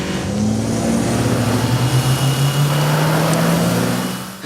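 A car engine held at full throttle in neutral roars loudly and continuously, its pitch rising slowly and steadily as it revs, close and alone with no voices.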